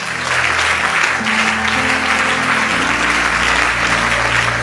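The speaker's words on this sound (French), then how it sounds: "Maintenant, commence à acclamer là où tu es." A church congregation applauds and cheers loudly and continuously, with dense sustained clapping and crowd noise over a steady musical drone.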